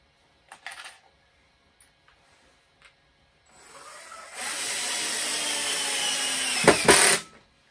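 A DeWalt cordless drill-driver spins up after a few faint clicks, running as a steady, loud, close whirring whine for several seconds before winding down.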